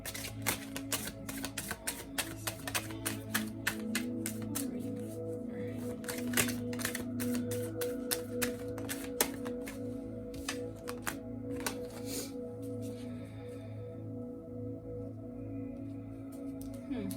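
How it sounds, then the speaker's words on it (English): Tarot cards being shuffled by hand, a long run of crisp, rapid clicking and riffling snaps, close and fairly loud, easing into quieter handling toward the end with no one speaking. "let's go back to shuffling"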